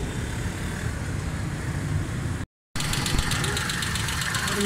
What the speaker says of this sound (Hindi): ये गाड़ी स्टार्ट है, बिल्कुल स्टिल स्मूथ है, किसी किस्म की कोई मिसिंग या कोई मसला कुछ भी नहीं है।